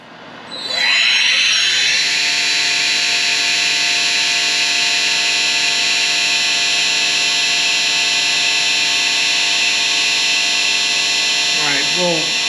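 A ShopBot CNC machine spins up to a loud, steady high-pitched whine while cutting a custom platform, holding one sustained tone before a brief pitch dip near the end.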